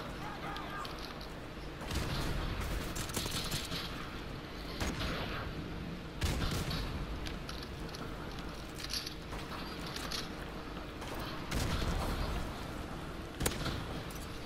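Gunfire in Call of Duty Modern Warfare Remastered, several loud shots and bursts spaced irregularly through a busy game mix with footsteps and movement, with some talk mixed in.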